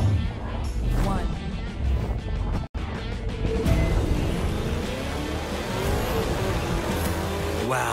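Sleeper car in the racing game The Crew 2 roars as it launches, a loud continuous engine drone with rising tones and a brief dropout partway through.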